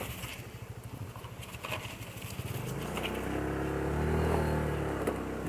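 A motorcycle climbs a steep mountain road between Sinjai and Malino, its engine chugging in a rapid uneven pulse before settling into a smoother, rising drone as it revs, heard close with no talking.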